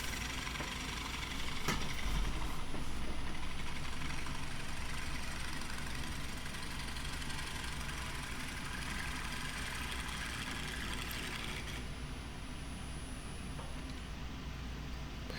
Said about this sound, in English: back to the negative rake scraper just to kind of sweeten things up once again